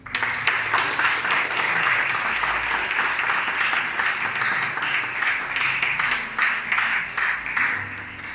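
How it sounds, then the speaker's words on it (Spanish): A church congregation gives steady, sustained applause to welcome their general pastor, a dense wash of many hands clapping throughout. "Un aplauso para él."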